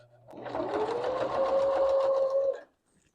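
A sewing machine stitches through paper scraps to form a small house shape, one short close burst of steady rapid whirring that stops abruptly, with no talk.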